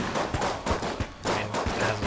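T-shirt cannon firing in the video game Enter the Gungeon, a series of punchy thumps and bursts in an uneven rapid rhythm amid busy game sounds, with no speech.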